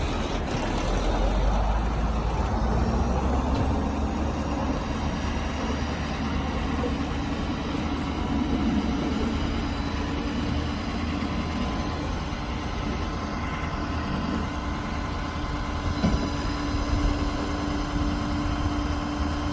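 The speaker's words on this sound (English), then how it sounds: "So now I'm going to have him engage the PTO," Diesel engine of a 2012 Ford F550 bucket truck running steadily while the PTO drives the articulated boom, a continuous low rumble with faint mechanical whine and occasional clicks, no talk.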